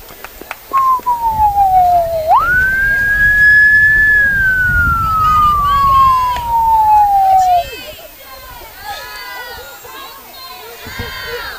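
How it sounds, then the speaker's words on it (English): A loud siren wails through a softball game broadcast in Double Springs, with a long sweeping tone that climbs, holds high, then slowly falls over several seconds. A crowd murmurs underneath and brief chatter follows. "Ambulances everywhere here in Double Springs today."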